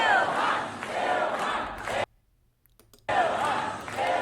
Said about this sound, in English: And you have about 40, 50 people, not even probably that, cheering for her.